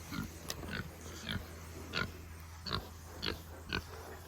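Pigs grunt and snort repeatedly in short, rhythmic bursts, close by and fairly quiet, with a low hum underneath.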